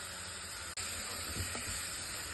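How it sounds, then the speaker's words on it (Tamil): Ginger garlic paste frying with crushed onions in hot oil for a quail gravy, giving a steady, faint sizzling hiss broken by one brief dropout, with no talking over it. "இந்த ஸ்டேஜில் இஞ்சி பூண்டு பேஸ்ட்டு போட்டுக்கலாம்."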